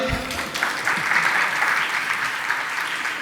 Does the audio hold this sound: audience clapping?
yes